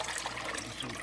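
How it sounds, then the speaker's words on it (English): Milk poured into a 2-quart Instant Pot for homemade Greek yogurt, a quiet continuous liquid splashing and gurgling for about a second. "Pour the milk in there."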